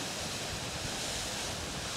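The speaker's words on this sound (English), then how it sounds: "But this waterfall is so cool, isn't it?" Steady broadband roar of a waterfall rushing in the remote Welsh hills, loud and continuous throughout with no voices.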